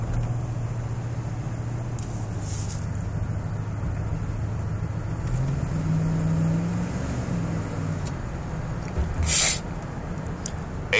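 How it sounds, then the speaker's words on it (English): A 2001 Dodge Ram SLT pickup idles steadily with a low engine drone throughout, a brief rise in revs midway and faint clicks on top, with no talking. "I'll shut up and let you listen to the vehicle."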